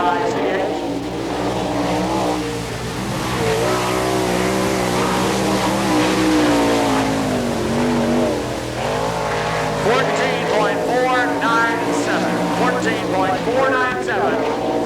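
A winged sprint race car screams around a dirt track at an All Star Circuit of Champions Winternationals event in Gibsonton, Florida, its engine roaring loudly and continuously with shifting pitch, while an announcer talks over it.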